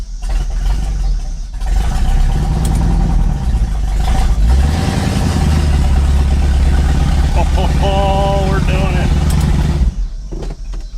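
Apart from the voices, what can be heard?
barn find Lincoln Continental engine running and revving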